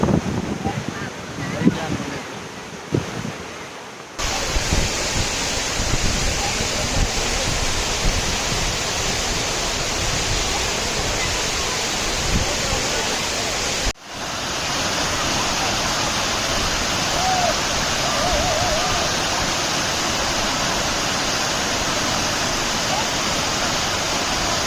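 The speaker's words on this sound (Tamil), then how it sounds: "ஏரியிலேருந்து தண்ணி மதகு மேலே ஓவர்ஃப்ளோ ஆகிட்டுருக்கு." Water from the full Uthiramerur lake spills over a sluice gate in a steady, dense rush. The roar holds level across several abrupt cuts, with brief voices and handling noise at the start.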